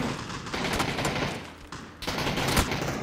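Gunfire in PUBG on PC rattles in rapid bursts, with sharp repeated shots over a noisy background, pausing briefly before another burst near the end.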